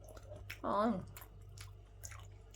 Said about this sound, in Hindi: तो मैं केवल पहले बड़ी बड़ी खाऊंगी।